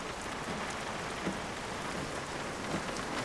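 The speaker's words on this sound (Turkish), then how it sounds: "Yağmur dinsin, öyle inersin aşağı." Steady rain pours down in a broad, even hiss with soft scattered drops and a few faint low rumbles, close and continuous with no voices.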